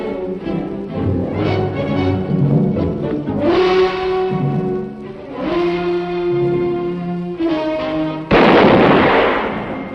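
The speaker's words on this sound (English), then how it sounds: "I had to shoot him." Gunshots in a western film: a dramatic orchestral score plays for several seconds before a single loud, sharp blast bursts in near the end and rings on.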